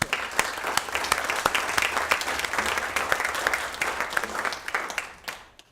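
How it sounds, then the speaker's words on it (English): An audience at a science symposium applauds warmly, dense clapping filling the room steadily before tapering off at the end. "Please join me in applauding everybody's contribution"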